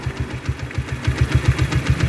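A Honda Megapro motorcycle engine idles with a loud, close, rapid regular chugging pulse and slight knocking character, steady with no voices.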